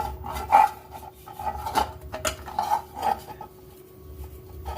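Oil being smeared by hand around the inside of a metal cake tin, giving soft rubbing and scraping with a few light metallic clinks, close and intermittent, with no talking.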